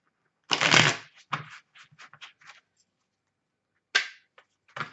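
Tarot and oracle cards are shuffled and drawn during a reading, a loud riffling burst followed by several short, soft card slaps and flicks, then another brief shuffle, close up with no speech.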